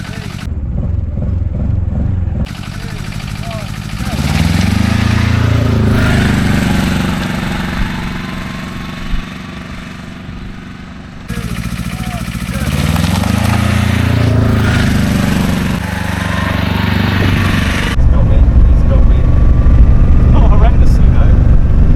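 A diesel microcar with motors front and back drives, its mid-pitched engine drone and revving running through several cut segments, loud and close, with someone talking over parts of it.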